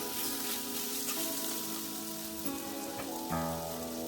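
Potato pieces fry in a pan in a home kitchen, giving a steady, dense sizzling hiss with a couple of faint clinks near the end.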